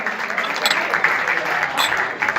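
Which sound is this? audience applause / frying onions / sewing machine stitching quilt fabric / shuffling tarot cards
audience applause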